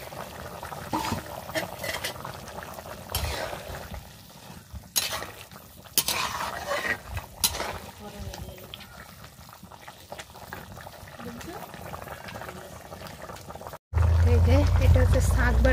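A pot left to boil on a home kitchen stove gives a soft bubbling hiss under intermittent clinks of pots and utensils while someone talks, then swells into a loud, steady rolling boil near the end.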